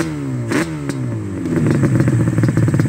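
A Yamaha Banshee quad with cut-down FMF shorty mufflers, close and loud, blips its throttle, then settles into a raspy, rising two-stroke rev with a crackling, pulsing exhaust note.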